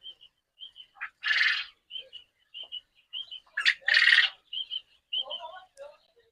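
Several quail and quail chicks chirp and call repeatedly at close range, short high peeps broken by a couple of harsher squawking bursts.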